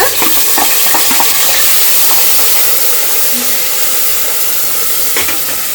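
Ground onion paste fries with masala in oil, a loud, thick sizzle with scraping stir strokes throughout, easing a little toward the end, close by and without speech.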